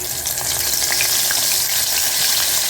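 Prawn 65 frying in a little oil, a dense crackling sizzle with scattered pops, steady and close throughout, no voices.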